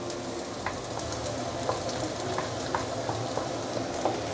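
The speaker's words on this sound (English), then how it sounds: "I'm going to saute this for a while, probably about 1 minute, to further bring out the fragrance of the dried chili." Dried chili sautéing in oil for Muar assam fish, a dense steady sizzle with light crackling and occasional soft clicks of stirring, even and close throughout without speech.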